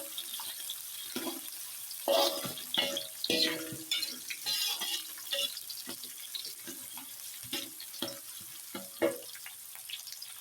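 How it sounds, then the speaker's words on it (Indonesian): Anchovies and tempe gembus with green chili stirred in a pan, with irregular scraping, clattering and soft sizzling bursts at moderate loudness. "kita akan aduk-aduk pemirsa sampai dengan layu dan baunya harum pemirsa"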